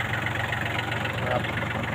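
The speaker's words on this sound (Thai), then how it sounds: "เครื่องยนต์3สูบนะครับ" A used Japanese 25-horsepower three-cylinder tractor engine with its original cab idles close by, a steady low rumbling chug that holds an even rhythm throughout.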